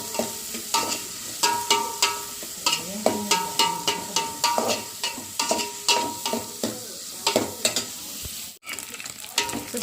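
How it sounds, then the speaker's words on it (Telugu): Dried fish pieces fry in hot oil for a bottle gourd curry, giving a steady close sizzle broken by regular scraping stirs about twice a second, with a brief pause near the end. "చూసారు కదా ఆయిల్లో ఫ్రై అవుతాయి."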